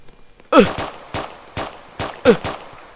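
Gunfire in the Roblox video game, a string of sharp separate shots roughly every half second, loud and close with a couple of heavier bursts, and no talk over them.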